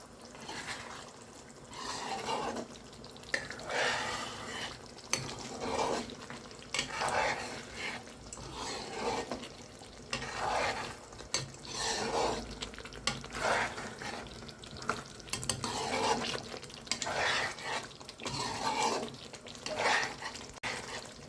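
Wet stirring and scraping in a pan of simmering egg curry, repeated in steady passes with soft bubbling underneath, close by.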